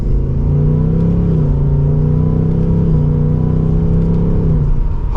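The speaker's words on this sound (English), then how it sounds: "let's go ahead and get the all-new Mustang out on the road. And from second gear, here we go" A 2024 Ford Mustang GT V8 accelerating hard from second gear, its loud, steady engine drone rising in pitch, easing briefly at a shift, then climbing again close up.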